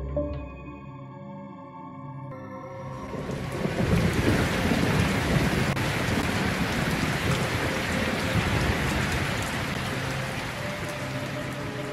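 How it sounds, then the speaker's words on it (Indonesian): Heavy rain with thunder, a sound effect that swells from a brief tonal intro into a loud, dense downpour with rumbling thunder, sustained evenly to the end. "Malam itu hujan deras mengguyur seluruh desa tanpa henti. Kilatan petir menggelegar"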